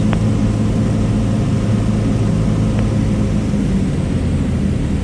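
A Cessna Skyhawk's piston engine and propeller drone steadily and loudly from inside the cabin in flight, turning left base for runway 20 at Lewis, with no talk.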